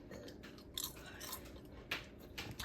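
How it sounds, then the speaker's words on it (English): Crisp dehydrated apple slices dusted with cinnamon are bitten and chewed close up, giving a few sharp, quiet crunches amid soft steady chewing. "Listen at the crunch. So they are crunchy, just like I wanted them."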